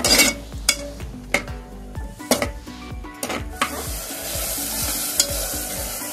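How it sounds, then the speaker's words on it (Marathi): Onion, capsicum and garlic fry in oil for Mumbai-style pav bhaji, with a spoon repeatedly clanking and scraping the pan over a sizzle that grows louder and more continuous toward the end, no talking. "त्या कांद्याला आपण छान थोडंसं ब्राऊन होईपर्यंत परतून घेऊया, कांदा आणि शिमला मिरची।"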